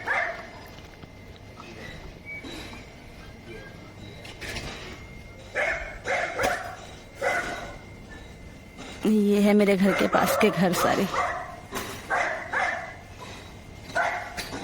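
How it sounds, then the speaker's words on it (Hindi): A dog near a house barks in scattered bursts, with a loud run of yips and whimpers partway through, while someone talks in between over quiet outdoor background. "बावला सा भौंका जा रहा है, भौंके जा रहा है अपने मालिक की तरह बावला है"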